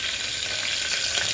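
Green chillies fry in hot oil for mint pulao, giving a steady bright hiss of sizzling that runs evenly through the short moment with no voices.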